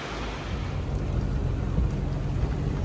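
Steady rain shower pours down over a farm field with a low rumble of thunder, a dense, loud wash of noise with no talking.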